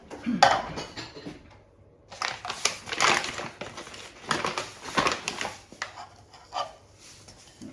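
Ceramic bowls clatter and clink together in a home kitchen while another bowl is fetched for rhubarb jam, a series of close, sharp knocks and scrapes with brief pauses between bursts, no talking.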